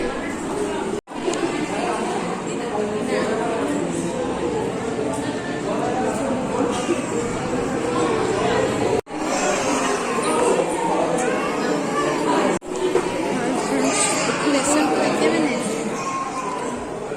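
A large crowd chatters continuously while waiting in a ticket queue, a dense and steady babble of many overlapping voices that stays loud throughout.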